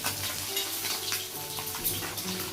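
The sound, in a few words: tengra fish frying in a wok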